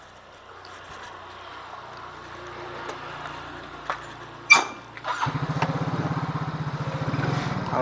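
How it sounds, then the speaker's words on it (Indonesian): Yamaha Mio J scooter with a sputtering, hesitating engine: faint low idle and some clicks, then the starter catches and the engine runs with an uneven, pulsing putter, revving up unsteadily toward the end. "Jadi motor ini nyendat-nyendat, bagaimana nyendat-nyendatnya kita cek saja bro ya."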